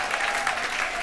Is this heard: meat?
no